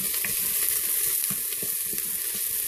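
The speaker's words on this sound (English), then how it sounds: "I've been letting the onions kind of stir fry for about a minute or two" Onions stir frying in a pot for coconut rice and red beans, a steady close sizzle with soft scraping stirs repeating every half second or so.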